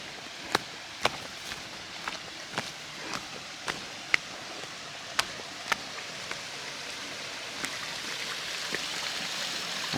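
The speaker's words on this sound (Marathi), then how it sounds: "ही नदी आहे छोटीशी" A small river stream near Kondeswar temple flows with a steady outdoor wash, broken by scattered sharp clicks and taps that recur irregularly throughout, moderately faint and with no talking.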